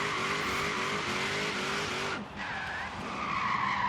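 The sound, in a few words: Chevy SS drifting with tires skidding in video game Forza Horizon 3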